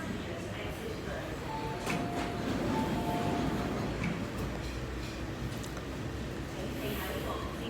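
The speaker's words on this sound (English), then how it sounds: "The train to Kaisha is arriving." A metro train arrives at Ma On Shan station platform, a steady low rumble and rolling hum filling the space with faint ticking and mechanical clicks, while announcements sound over the platform.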